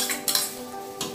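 Onion pieces dropped into boiling rice-wash water for bangus sinigang, a short burst of splashing and bubbling followed by a second clatter, close and without talk.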